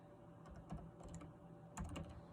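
Someone types a file name on a computer keyboard in quick, soft, irregular bursts of keystrokes, with a steady low background hum and no talk.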